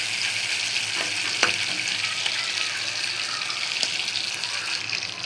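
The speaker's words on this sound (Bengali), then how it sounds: "মাছগুলো ভাজা হয়ে গেছে," Shingi fish (stinging catfish) frying in oil in a pan make a dense, bright, crackling sizzle that stays steady and close, with a few sharper pops.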